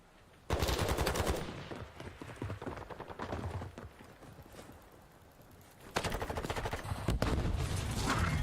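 Rapid automatic gunfire rattles in dense bursts during a Call of Duty League esports match, pausing briefly before another loud volley erupts near the end.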